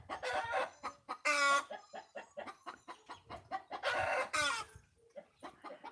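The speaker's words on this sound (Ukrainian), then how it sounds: "курочки нам допомагають в цьому" Hens cluck steadily in a rapid, rhythmic series, close and clear, broken twice by louder drawn-out squawks or crowing calls.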